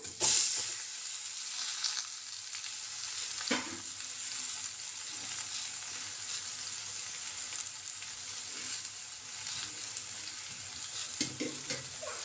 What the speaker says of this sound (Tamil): இப்போ வந்து கிழங்கு ஆட் பண்ணிக்கலாம்